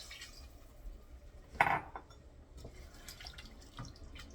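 A short burst of water splashes into a pot of meat for potato paprikas, followed by faint dripping and light clinks in a quiet kitchen.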